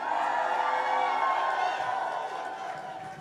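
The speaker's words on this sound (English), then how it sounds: "Give yourselves a big round of applause." A town hall crowd cheers and claps loudly, a dense wash of voices and applause that swells early and slowly fades toward the end.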